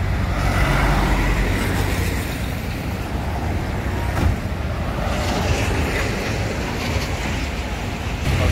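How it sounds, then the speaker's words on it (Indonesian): Idling and rumbling diesel buses fill a busy Sempati bus terminal with a steady, loud low drone, no talk over it, one brief louder knock midway. "Asik ya kalau rame kayak gini penuh bus-busnya"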